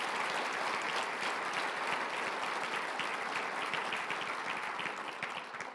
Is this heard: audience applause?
yes